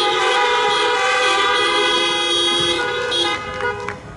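Several car horns honk together in a church parking lot during an outdoor Pentecost prayer service. They make loud, sustained, overlapping tones that hold steady for about four seconds, then break up near the end, with no talking.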